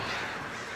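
In the video game Alan Wake, a flock of crows caws in a brief, harsh, dense burst that is loud and close, with no talking.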